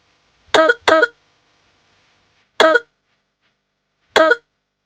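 Four short, harsh coughs from a woman in quiet: two in quick succession, then two more spaced out, close and loud.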